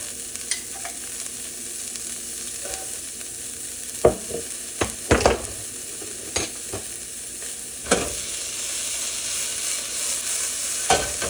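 Capers sautéing in a pan with garlic, a continuous sizzle punctuated by several sharp utensil scrapes and stirring knocks, near and loud, no voices.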